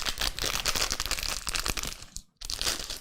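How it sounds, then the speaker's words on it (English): A computer I/O shield is pulled out of a small plastic bag, giving dense, continuous crinkling and rustling close up, with a brief pause near the end before the crackling picks up again. "Now our I/O shield here is in a little plastic bag, and obviously we have to take this out."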